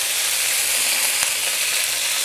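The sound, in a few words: curry leaves sizzling in hot oil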